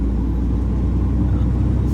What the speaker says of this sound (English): This truck just takes forever to start.